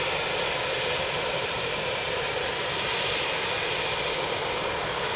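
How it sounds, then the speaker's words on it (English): An RAF military aircraft taxiing out at Coningsby gives a loud, steady jet engine roar with a whining hiss that holds constant throughout, with no voices over it. "And see they're taxiing out now, so we've been given clearance."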